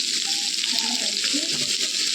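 A little water goes into a pan of food cooking with salt and turmeric for a fry, making a steady, loud, close hiss of pouring and sizzling that holds unbroken throughout.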